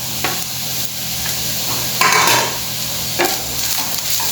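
Garlic and ginger sizzle in hot oil in a pan for a Goan prawn curry, with a steady crackle broken by clanking stirs and scrapes of a utensil.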